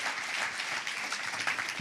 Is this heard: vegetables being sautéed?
no